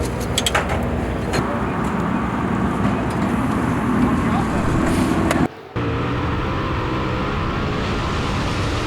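Race cars in a dirt-track heat race roar past as one loud, continuous engine drone that cuts out briefly midway, then resumes at full strength.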